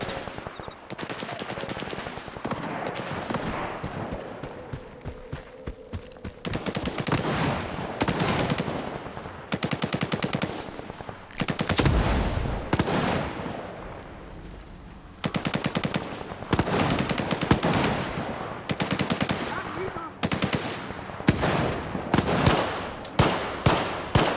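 Sustained rapid automatic gunfire in the shooter game S.T.A.L.K.E.R. 2 Heart of Chornobyl, dense bursts of loud shots with brief pauses between volleys, continuing throughout without speech.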